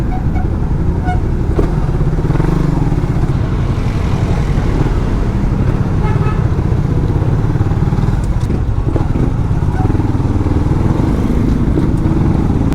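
A Suzuki Raider motorcycle weaving through busy traffic, its engine droning loud and steady throughout, with surrounding vehicle noise, faint clatter and the occasional distant honk.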